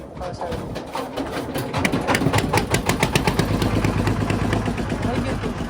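A motorcycle engine starting and settling into a steady running rumble, loud and close, with people talking over it on a coastal road in Bangladesh.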